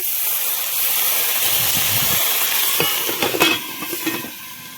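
Ginger and green chili sizzle in hot oil with a broad steady hiss, then a few sharp clicks and stirring taps toward the end, close and fairly loud.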